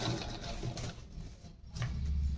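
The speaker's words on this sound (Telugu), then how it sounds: "ఇలా చక్కగా ఇలా గుంజుకుంటూ మనం స్టిచ్చింగ్ చేసేస్తాం" Sewing machine stitching fabric along an edge, a soft steady whirring hum with faint rhythmic ticking, quiet and close, with no talk.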